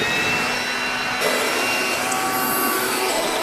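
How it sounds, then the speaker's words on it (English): Leaf blower running steadily nearby, a loud continuous broadband whoosh with a whining tone, beside a Freightliner semi truck. "I brought a leaf blower"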